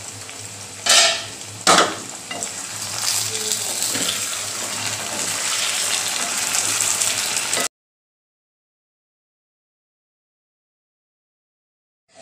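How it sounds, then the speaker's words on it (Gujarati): Potato chips sabzi, a fasting-style potato chip curry, stirred in a pan, with a couple of sharp scraping clatters of the spoon over steady frying sizzle for about eight seconds, then silence. "આપણે હલાવીને જોઈ લઈશું કે આપણી ચિપ્સ બરાબર ચડી ગઈ છે કે નહીં"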